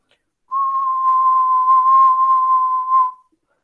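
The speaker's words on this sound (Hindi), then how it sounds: "मैं जब सीटी बजा रहा हूं तो एक टोन आ रही है." A single steady whistled tone from a person, clean and sustained for about three seconds, loud and close with no other sound around it.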